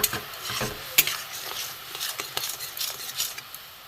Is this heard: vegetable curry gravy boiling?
yes